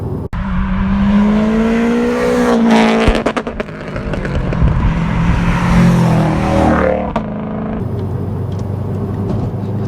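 A Subaru Impreza WRX STI engine pulls hard and loud while overtaking on the road, with the revs climbing steadily through one long surge and a brief gear change partway through, heard up close from the car with no talking.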